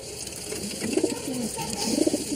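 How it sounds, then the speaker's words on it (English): Pigeons kept on a rooftop coo in soft, repeated throaty phrases that are close and moderately loud over quiet background noise, with no talk. "a family friend who keeps pigeons on his roof"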